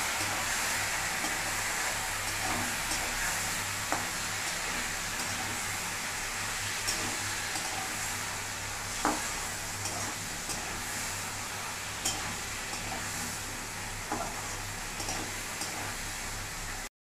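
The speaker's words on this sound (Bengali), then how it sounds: "বেগুন দিয়ে আমি নাড়তে থাকবো।" Eggplant fries in a pan with neem leaves, a steady loud hiss and sizzle of oil running throughout, broken by faint, scattered taps and scrapes as the pieces are stirred.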